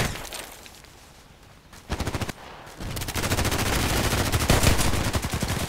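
An HK USP pistol fires in the video game Contract Wars: a short burst of shots, then a quieter gap, then a long rapid string of close, loud reports.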